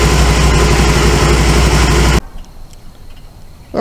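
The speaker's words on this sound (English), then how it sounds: "The Can-Am Spyder on the road as promised." A 2009 Can-Am Spyder RS engine runs loud and steady, then drops off abruptly to a much quieter rumble partway through, with no voices.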